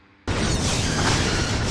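A loud explosion effect from a Star Trek fan film bursts in suddenly after a brief quiet moment, then holds as a dense, roaring blast that does not fade.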